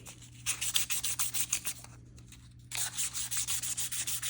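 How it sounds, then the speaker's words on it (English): An acoustic guitar hand-sanded with 1000-grit sandpaper, with close, steady back-and-forth rasping strokes in a regular rhythm, a brief pause midway, then continued sanding over a low background hum. "So what I want to do is get some more sandpaper, but this time I'm going to go to 1000 grit."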